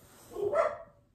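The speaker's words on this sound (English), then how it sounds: "They're in a argument or beef with the dogs next door." Dogs barking at the neighbouring dogs next door, a single short bark swelling and fading, heard at moderate distance indoors.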